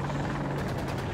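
Attack helicopter in the video game Battlefield 2042, a steady loud rotor thrum and engine whine droning without a break throughout the short stretch.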